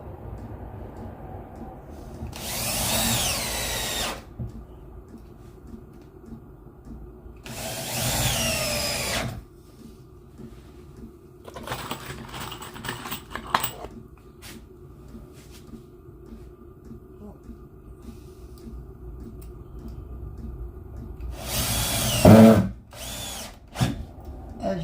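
A power drill drives screws in three loud close bursts, each a few seconds long, separated by quieter clunks and handling noise, with a final short whine near the end.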